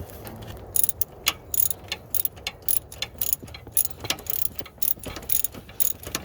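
Ratchet tightening a bolt on the linkage of a John Deere 3025E tractor during repair, rapid clicking pawl bursts in irregular runs, close and fairly loud, no talk.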